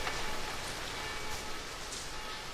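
Rain falls on a narrow cobbled alley, a quiet, even hiss of drops that holds steady and soft for the whole stretch with no voices.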